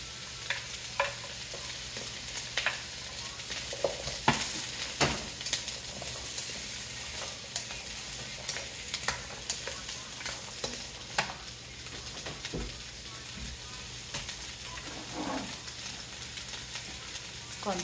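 Celery and other vegetables stir-fried in a hot pan, with a steady broadband sizzle and frequent scraping clacks of a spatula against the metal, close and continuous throughout.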